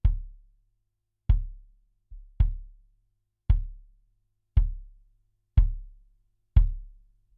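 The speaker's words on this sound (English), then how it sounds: "So let's start off with the kick." A lone kick drum is struck seven times for a level check, each hit a dry, deep thump with a quick decay, spaced about a second apart with one softer hit, in silence between.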